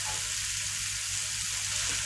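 Pineapple pieces dropped into curry paste frying in oil in a pan, giving a steady, bright sizzle that holds close and even throughout.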